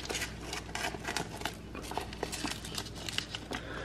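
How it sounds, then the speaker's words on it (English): Scissors snip and crinkle through the plastic packaging of a Holmes Smokehouse small-batch chicken sausage, giving a close, steady run of crackly rustling and cutting noises with no talk. "I'm just going to cut it with scissors."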